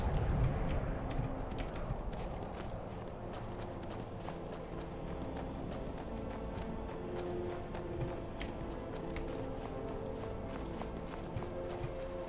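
Hooves clatter in a steady, fast clip-clop as a horse gallops in the video game Skyrim, a continuous rhythmic drumming that stays close and fairly loud throughout.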